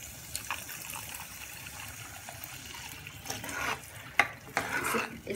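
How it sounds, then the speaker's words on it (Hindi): Water stirring and sloshing in a pot of usal, a sprouted-bean curry, with soft scraping and a few brief clinks near the end, steady and close. "इसमें पानी डाल के हमें बहुत अच्छे से मिक्स करना है।"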